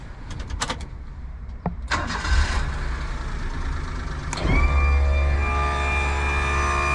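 An automatic Kei truck's engine cranks and catches, then settles into a steady idle with a low rumble and a faint whine, close by and fairly loud after a few brief clatters and clicks beforehand.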